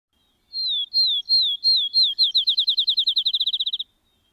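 Recorded field sparrow song: a series of clear, loud, slurred whistles that start slow and spaced, then speed up into a rapid accelerating trill before stopping, heard alone and close.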